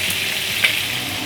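Chicken pieces frying in oil for a chicken roast, a close, steady hissing sizzle with one small pop, brief and without speech.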